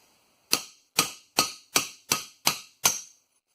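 An old socket struck with a hammer to tap a bearing out of a 2008 Ford F-150 pulley: seven sharp metallic blows at an even pace, close and clear against near silence.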